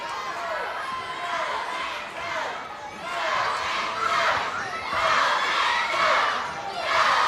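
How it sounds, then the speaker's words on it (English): A pro wrestling crowd in an arena cheers and shouts continuously and loudly during a tag team match. The noise swells in waves, with an announcer talking over it. "And a crowd picking up,"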